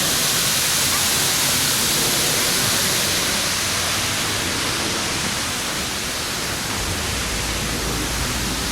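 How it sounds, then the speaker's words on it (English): A waterfall at Byeongmogan in Anyang, Korea, heard from close by, gives a loud, constant broadband roar of rushing water that stays steady for the whole stretch, with no voices over it. "this is the closest that we can get to the waterfall"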